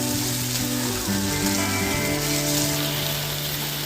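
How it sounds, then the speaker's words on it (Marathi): Onion and tomato soften in a hot pan for a Malvani-style dish, producing a loud, continuous close-up sizzle that stays even throughout, with no voices. "कांदा टोमॅटो सुद्धा चांगला असा नरम करून घ्यायचा शिजवून घ्यायचा"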